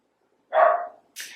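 One dog bark sounds nearby, followed shortly by a brief, higher-pitched yelp-like burst; otherwise quiet.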